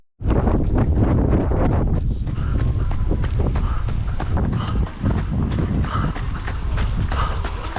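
Strong wind rushes and buffets loudly and steadily while a runner moves through a tunnel. A rhythmic thudding of footsteps runs underneath.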